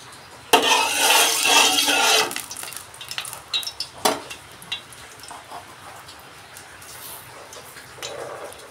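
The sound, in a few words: moong dal frying in mustard oil in a wok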